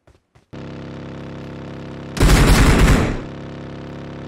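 A loud burst of rapid automatic gunfire in PUBG Mobile erupts over a steady droning background hum, lasting under a second before cutting back to the drone.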